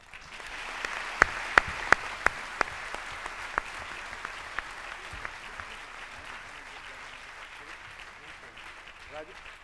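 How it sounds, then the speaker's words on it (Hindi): An audience at a spiritual gathering in Delhi, India breaks into applause, first a few sharp separate claps and then a sustained spread of many hands clapping together, with voices faintly present beneath. "जरा एक गूंज से एक ताली हो जाए।"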